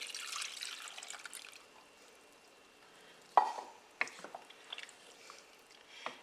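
One and a half cups of whole milk pour into a pot of cheeseburger soup with melted Velveeta cheese: a soft, close liquid splash and trickle, followed by a few sharp drips and clinks.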